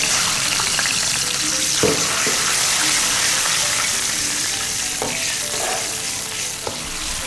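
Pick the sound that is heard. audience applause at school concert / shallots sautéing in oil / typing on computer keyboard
shallots sautéing in oil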